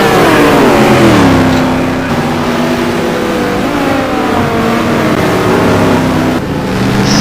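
A Mustang GT1 race car engine roars loudly and continuously at close range, its pitch rising and falling as the revs climb and ease off, aggressive and unbroken throughout.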